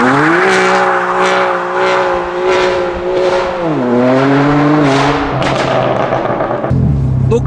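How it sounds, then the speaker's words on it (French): A remapped BMW M2 Competition makes a launch start with stability control fully off: the engine roars and climbs through quick gear changes while the tires squeal and chirp, loud and close. "je vais faire un petit démarrage avec l'ESP off"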